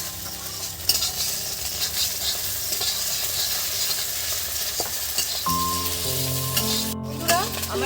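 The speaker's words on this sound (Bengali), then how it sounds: "আমার ডিম ভাজা হয়ে গেছে" Egg frying in a pan, steady close sizzling and spitting throughout, with a few clinks of utensils and a tonal hum joining in the latter half.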